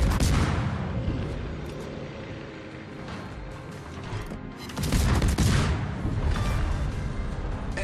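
Ship guns firing in the naval game World of Warships: repeated heavy booms and rolling salvos, loud and close, some bursts overlapping, with no talk.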